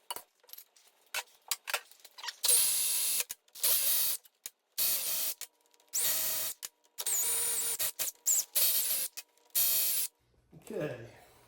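Ratchet wrench loosening the seven 13mm pump-to-case bolts on a 2002 Chevrolet Avalanche 4L60E transmission, close-up bursts of rapid clicking separated by short pauses, with a faint rattle at the end.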